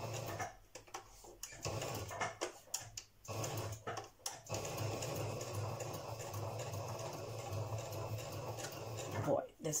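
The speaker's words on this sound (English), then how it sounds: "I have to sew now very slow because it's an oval." A sewing machine stitches slowly around an oval on collage paper, its motor starting and stopping in short bursts and then running steadily, with a voice talking over it.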